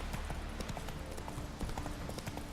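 Horse hooves clip-clopping at a steady galloping rhythm in The Witcher 3, a continuous run of close, even hoofbeats with no talking.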